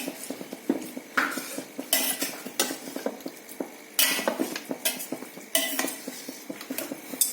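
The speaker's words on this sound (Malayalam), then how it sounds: "എന്നിട്ട് നമുക്ക് നന്നായിട്ട് ഇളക്കി കൊടുക്കുക." A utensil stirring thick varutha chicken curry gravy in a metal pot, with steady clanks and scrapes against the sides and a faint sizzle underneath, close and fairly loud.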